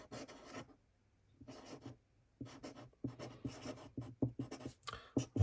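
Pen writing on paper, close quiet scratchy strokes in short bursts separated by brief silences, growing quicker toward the end, no talking.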